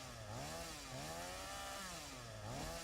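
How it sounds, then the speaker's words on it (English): A chainsaw cuts trees in the video game Satisfactory, a steady buzzing engine drone that rises and falls in pitch in slow waves as it bites, fairly quiet and with no talk. "they said they changed the sounds on the chainsaw"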